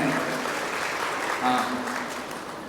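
An audience at a Tamil speech event claps together in sustained applause, a dense, even patter that holds steady across the whole stretch and carries a faint voice underneath.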